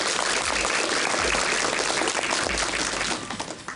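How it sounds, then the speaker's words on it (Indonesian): A studio audience of schoolchildren, teachers and parents on an Islamic charity TV show breaks into loud, dense applause that tapers off near the end. "boleh kasih tepuk tangan lagi"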